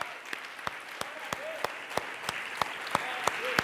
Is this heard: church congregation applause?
yes